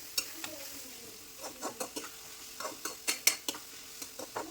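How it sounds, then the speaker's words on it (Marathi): Onion frying in oil in a pan, a soft steady sizzle broken by repeated metallic clinks and scrapes of a spoon stirring against the pan. "अजून लागेल तेल कांदा व्यवस्थित भाजून घेऊया आपण"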